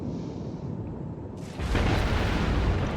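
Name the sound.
torpedo hitting a ship in World of Warships video game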